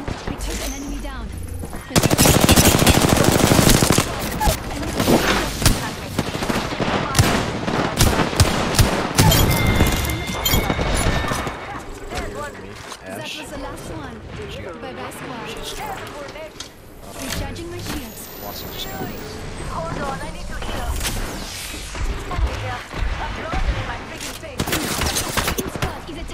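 Heavy video-game firefight with rapid machine-gun bursts and repeated gunshots, loud and close at first then more scattered, while players' voices call out over the shooting.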